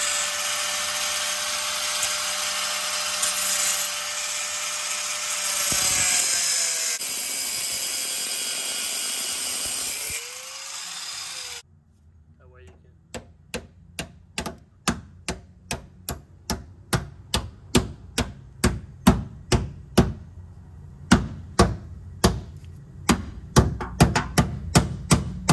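A power tool whines steadily while slitting around the fender lip of a 1989 Chevy Caprice, then stops and gives way to a long run of loud, sharp, regularly spaced cutting snaps or hammer-like hits close by.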